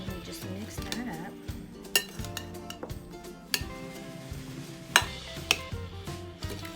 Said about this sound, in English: Okay, and we just mix that up.